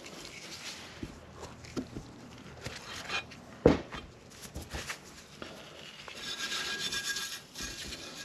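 An automotive Scotch-Brite pad rubs rust off a Ford XC panel van headlight, making faint, uneven scraping and rasping strokes up close, with one sharper knock partway through.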